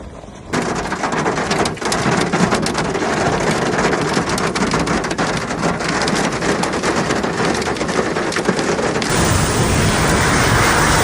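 Heavy rain pours steadily during a thunderstorm in Saudi Arabia, a loud, dense roar of falling water with a deep rumble of thunder underneath.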